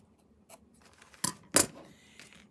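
Scissors snipping the edge of a paper napkin up close, a soft first touch followed by two sharp, distinct crisp cuts in quick succession against a quiet room.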